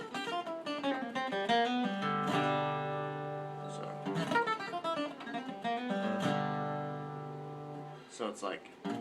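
Bluegrass acoustic guitar forward sweep lick: brisk flatpicked note runs ending on ringing sustained notes, repeated in several phrases, solo and close with no talking.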